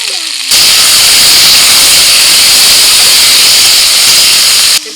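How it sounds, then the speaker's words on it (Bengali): Chopped tomato hits hot spice paste of ginger, garlic and green chilli in a pan, bursting into a loud, steady sizzling hiss that holds evenly for several seconds before cutting off. "এবার দিয়ে দিচ্ছি টমেটো কুচি"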